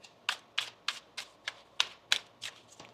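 A deck of tarot cards gets shuffled in a quiet room, with eight or nine crisp riffling snaps at a regular pace, close and fairly soft.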